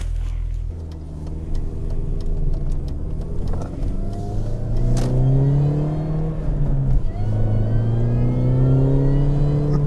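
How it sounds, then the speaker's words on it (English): A 2006 Mini Cooper John Cooper Works accelerating hard, its engine note climbing steadily through the gears in a loud, continuous rise with a brief dip as it shifts, heard up close with no talking. "did you really think I was going to turn down a chance to drive a 2006 John Cooper Works?"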